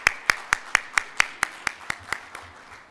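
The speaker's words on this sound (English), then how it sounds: "Give her a round of applause to Vernice" Rhythmic, evenly spaced claps ring out at a close distance, about a dozen sharp strikes that slowly fade, welcoming Vernice to the stage at a minority investment managers forum.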